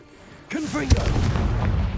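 Confringo blast spell in the wizarding game Hogwarts Legacy: a sharp, loud explosive boom about midway, preceded by a rising voiced call and followed by a rumbling tail with voices underneath.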